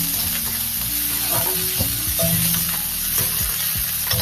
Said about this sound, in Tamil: வெங்காயம் பச்சை மிளகா போட்டு நல்லா வதக்கலாம்.